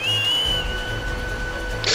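A whistle in the video game The Legend of Zelda: Skyward Sword, a single sustained tone that slides up and holds steady for about two seconds over soft game ambience, ending with a brief brighter burst.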